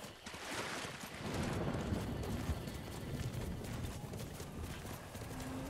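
Horse hooves clip-clop in the video game Ghost of Tsushima, a steady stream of quick hoofbeats at moderate distance over a soft background bed, with no talk.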